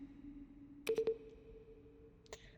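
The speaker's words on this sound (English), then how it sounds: "That's the sound effect from the HEV suit in Half-Life, isn't it?" Half-Life HEV suit sound effect heard in The Stanley Parable Ultra Deluxe: a quick cluster of three clicky synthesized beeps on a steady tone, then a fainter blip near the end over a low hum.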